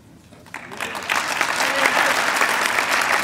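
Audience applause at a December bar association dinner address, starting sparse and swelling within a second into a steady, full round of clapping that holds to the end.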